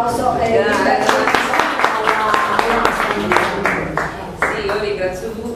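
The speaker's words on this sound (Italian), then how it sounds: "quindi un applauso." An audience at an arts association talk claps for a speaker, a fairly loud round of many hands under a voice that keeps talking over it.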